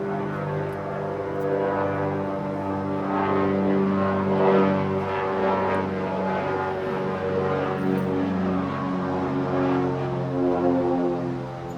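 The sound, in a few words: airplane flying overhead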